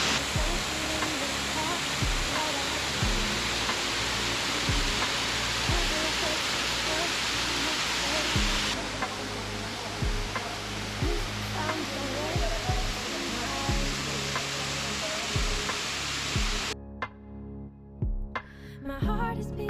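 Fresh, clean stream water rushing steadily as a broad hiss, with intermittent thumps of handling noise, before the flow cuts off near the end.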